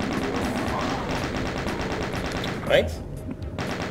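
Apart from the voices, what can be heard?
chain gun firing in Doom (video game)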